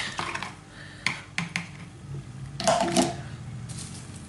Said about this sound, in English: Give it a good old whisk.